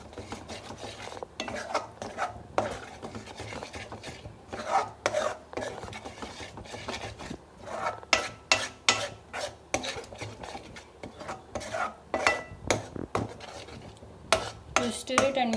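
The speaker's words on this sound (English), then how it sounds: "You stir it and mix it well." A spoon scrapes and stirs mutter paneer curry in a pan with the flame off, making a steady run of close, uneven rasping strokes and clinks with no talk.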